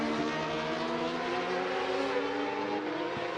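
Racing motorcycle at the Macau Grand Prix motorcycle race, powering hard out of Fisherman's Bend on the street circuit, a loud continuous engine roar held steady and close throughout.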